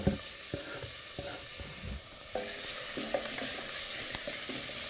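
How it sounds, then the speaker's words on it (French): Onion, ginger and garlic sweat in a little olive oil, a soft, steady sizzle that swells a bit partway through, with a few light knocks and stirring sounds near the start; no voices. "je vais la faire suer dans un petit peu d'huile d'olive"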